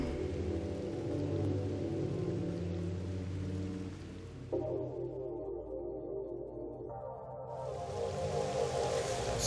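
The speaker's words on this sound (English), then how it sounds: "Still raining." Rain falls in Zelda: Twilight Princess on the GameCube, a continuous hiss of rainfall over low tonal game music that shifts partway through, with no talking.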